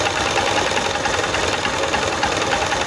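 A motorcycle engine runs steadily during a magnet coil output test, a close, even mechanical drone with a fast knocking pulse and no talk over it.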